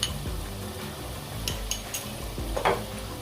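Ginger garlic paste sizzles in oil with golden brown onions in a pan, a soft steady fry under a few scrapes and light metallic clinks from a stirring spoon, close up and with no voices.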